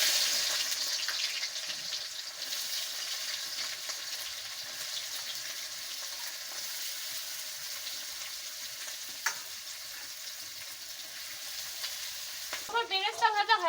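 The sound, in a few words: onions frying in hot oil for beresta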